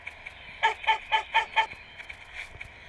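Chickens in a free mobile cat video game cluck in a burst of five evenly spaced, clear calls, fairly close and alone over a faint game background.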